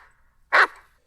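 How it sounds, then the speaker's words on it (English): A dog gives one sharp, close bark, loud and brief, set against a quiet room with a faint voice murmur before it. "Bad dog, get out of here."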